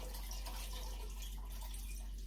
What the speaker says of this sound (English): I will put some water in it.